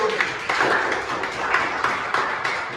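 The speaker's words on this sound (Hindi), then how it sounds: "एक बार ताली हो जाए।" An audience of students at an army mock-test seminar claps for a trophy winner, a soft, moderately dense patter of applause with a few sharper claps, fairly faint and somewhat distant.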